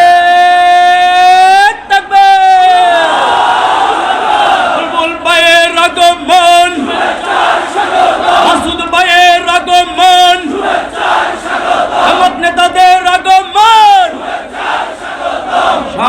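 A rally crowd in Lakshmipur chants a slogan together: a leader's amplified call answered by loud massed voices in repeated bursts, the call-and-response rhythm sustained and close.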